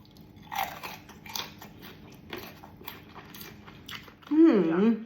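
Crisp, crunchy bites into pickled jujube preserved in the royal style, a run of close, sharp crunching chews repeating through the clip, followed by a louder burst near the end with a voiced sound over it.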